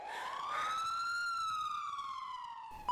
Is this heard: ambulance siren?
yes